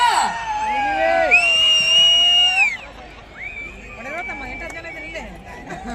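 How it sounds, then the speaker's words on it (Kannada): A festival crowd at Hampi Utsava 2025 cheers and whoops in front of a stage, with rising whistle-like shouts over general chatter. The sound is loud at first, then settles into a softer, busy murmur. "ಜೋರಾದ ಚಪ್ಪಾಳೆ ಬರ್ಲಿ"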